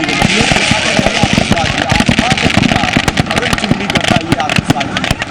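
Rapid bursts of firecrackers packed in a burning Ravan effigy crackle and pop loudly in dense, irregular volleys, with crowd noise and voices mixed underneath, at a Ravan Dahan festival in India.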